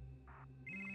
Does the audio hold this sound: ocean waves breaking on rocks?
no